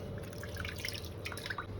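Water splashes and drips softly as sliced potatoes for wafers are rinsed a fourth time, with scattered small liquid plinks over a low kitchen hum.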